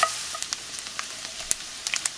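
Bacon frying in a pan gives a faint, steady sizzle broken by scattered sharp pops and crackles, with no voices.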